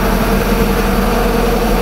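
Bourgault 7000 air seeder fan running loud and steady, a dense broadband whirring drone close by, continuous throughout with no talk.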